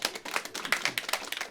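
Clapping from a live podcast audience voting no, a brief patter of hands, fairly sparse and moderately close, with no talk over it.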